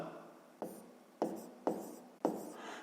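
Pen on paper writing out a fifth-grade math solution: four short, quiet scratching strokes, each starting sharply and trailing off, at a steady pace with no talking.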